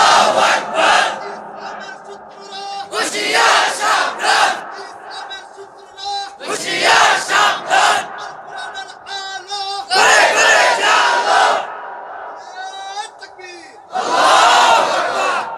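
Large crowd at a religious gathering shouting takbir in unison, a lone voice leading and the mass of voices answering in loud, repeated bursts with short pauses between.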